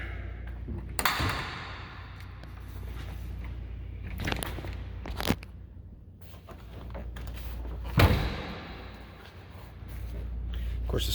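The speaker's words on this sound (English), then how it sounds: "Let's open up the back hatch here." A few scattered clunks and a latch-like snap, then a broad whoosh as the rear hatch of a 1988 Chevrolet Suburban swings open, with footsteps and handling noises nearby.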